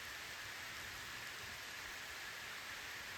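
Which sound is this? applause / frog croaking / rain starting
rain starting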